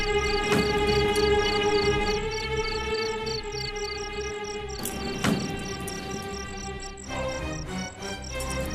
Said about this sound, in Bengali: সোমরাজ বাবু, চারিদিকে তো ঝিঝি ছাড়া আর কিছুই নেই, কেউ নেই।